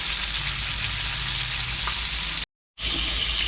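Lamb chops sear in a hot pan with a loud, steady hiss and sizzle heard up close, broken by a short moment of silence.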